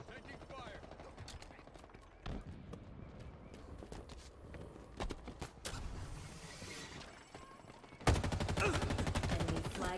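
Halo Infinite capture-the-flag match with bursts of gunfire, scattered shots and footsteps through the middle, then a loud sustained volley of automatic fire at the end.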